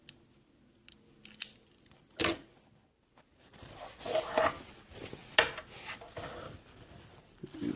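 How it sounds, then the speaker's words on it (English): Scissors slicing the edge off nylon PALS/MOLLE webbing: a few sharp, close snips spaced apart, then a longer run of cutting and rustling handling noises, with no one talking. "Once I got one edge done, I just like to cut the edge off and hit it with a barbecue lighter."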